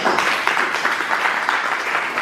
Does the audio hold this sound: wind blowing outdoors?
no